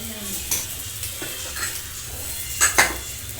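Ragi adai frying in oil on a hot pan, a steady soft sizzle with a few sharp clinks of a utensil against the pan partway through.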